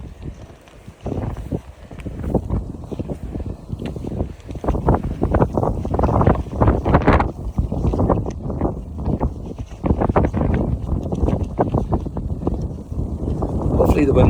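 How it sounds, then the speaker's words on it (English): Wind gusts outdoors buffet the microphone in uneven, rumbling bursts that swell and fade, with a person talking underneath the blustery noise. "Hopefully the wind will die down when we get round this side here."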